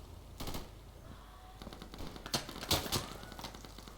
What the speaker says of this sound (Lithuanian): Skoperis šaudo.